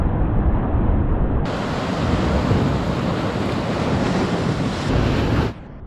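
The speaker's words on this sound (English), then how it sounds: "Waves crashing." Ocean waves crash and wash onto a Big Sur beach in a loud, continuous surf roar, heavy wind buffeting the microphone until it drops off near the end.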